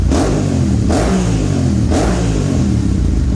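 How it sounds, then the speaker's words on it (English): A Yamaha R7 motorcycle with a full Akrapovic exhaust roars continuously, revving up and dropping back in two surges with a deep, rumbling exhaust tone. "the Yamaha R7 full Akropovic exhaust is installed, and right off the bat, this thing sounds a million times better"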